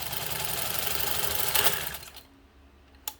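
A 1948 Singer 15 sewing machine runs steadily for about two seconds with a dense mechanical whir, then slows and stops, leaving a faint hum and one brief click.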